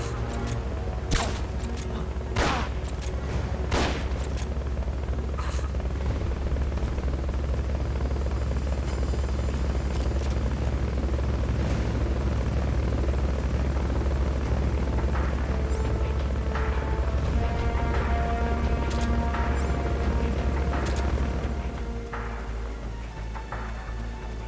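A recovery helicopter in the video game Metal Gear Solid: Peace Walker gives a steady, loud rotor drone that runs close and unbroken for about twenty seconds. Brief gunfire-like bangs sit on top of it, and the drone drops off near the end.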